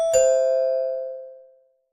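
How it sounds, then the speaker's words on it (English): A doorbell rings once in a home, a clear two-tone ding-dong chime that sounds alone and fades slowly over about a second and a half. "The doorbell rings."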